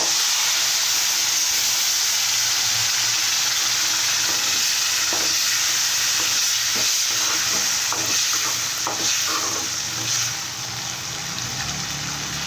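Tomato pickle paste frying in a pan makes a loud, continuous sizzling hiss close up, with a cluster of spoon scrapes and stirring clatter in the middle.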